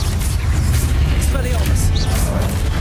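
An Incendio fire spell is cast in Hogwarts Legacy, a dense burst of whooshing, crackling game effects amid loud continuous action sound, with a voice talking over it.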